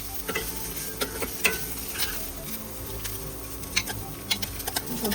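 Chopped onion, ginger and garlic fry in a small amount of oil, giving a steady close sizzle with scattered sharp pops and stirring scrapes, and no talk over it.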